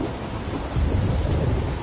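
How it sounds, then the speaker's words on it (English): Thunder from an approaching storm in The Walking Dead video game rolls low and heavy under a wash of steady rain, swelling louder partway through and rumbling on without speech. "there's a storm rolling in"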